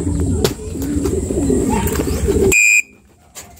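Racing pigeons coo steadily and close by during club training, a low throaty murmur that cuts off abruptly near the end, leaving brief quiet.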